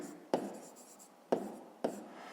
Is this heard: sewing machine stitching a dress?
no